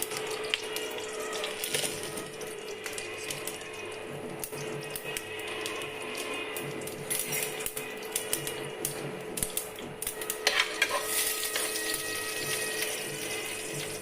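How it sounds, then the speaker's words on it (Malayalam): Mustard seeds spluttering and popping in hot oil on a stove, a dense, steady crackle of tiny pops running throughout with a constant hiss, close and moderately loud, no voices. "കടുക് പൊട്ടി തുടങ്ങുന്നുണ്ട്. ശബ്ദം കേൾക്കുന്നുണ്ടാവുമെന്ന് വിചാരിക്കാം."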